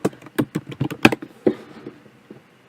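Rapid keystrokes on a computer keyboard while typing into Cortana search, a quick burst of close, crisp taps that slows to a few scattered presses and fades out.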